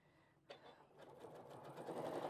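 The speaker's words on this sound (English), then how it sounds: "It's sewing that vinyl onto just my piece of fabric without a hitch." A sewing machine runs steadily as it stitches vinyl onto a piece of fabric, its motor hum building from a soft start into a continuous, moderately loud whir with no voices.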